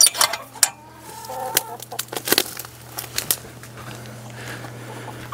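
Chickens in a coop give scattered clucks and short calls over a steady low hum, with a brief flutter of wings and soft patter, close by.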